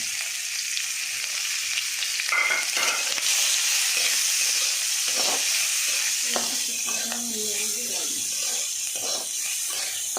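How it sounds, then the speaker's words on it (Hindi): Chopped onion sizzles and fries in hot oil with a steady, close crackle, stirred now and then, while a voice talks faintly underneath. "इसको तेल में फ्राई करना है। तो थोड़ा सा ऑनियन, कटा हुआ ऑनियन भी डालना है"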